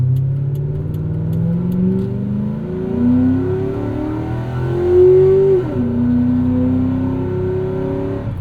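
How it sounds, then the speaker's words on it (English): A 2003 Mercury Marauder V8 revs up and down, its induction noise rising in pitch in smooth sweeps and then falling back, loud and close with no talking. "The induction noise on this car is so good and clear."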